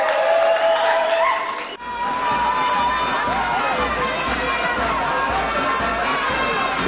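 Sustained, loud applause from party activists and supporters at a campaign rally, a dense roar of clapping with crowd noise that briefly dips, then swells again and carries on steadily.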